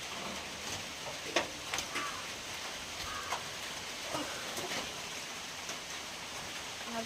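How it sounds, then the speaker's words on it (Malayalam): Light rain drizzles outdoors on the way to a river. It makes a faint, steady hiss with a few scattered, slightly louder drops. "മഴ ചാറുന്നുണ്ട്. മഴ തുടങ്ങി കേട്ടോ വീണ്ടും."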